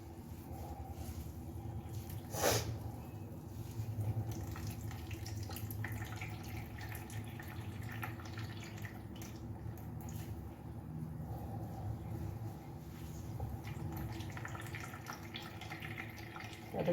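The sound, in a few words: water dripping out of vegetables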